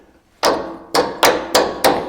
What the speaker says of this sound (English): We'll knock this bolt off up here